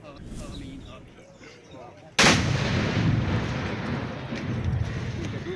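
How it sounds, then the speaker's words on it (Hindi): A flood protection embankment is blown up with explosives, a single sudden loud blast partway through that leaves a long rumbling roar of debris and water. People talk before it. "झंग को सैलाबी पानी से बचाने के लिए बंद को धमाके से उड़ाने का ये फैसला किया गया।"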